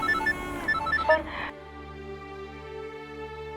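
A mobile phone rings in a Hindi TV drama with a quick run of bright electronic beeps over voices and background music, then a sustained musical drone takes over.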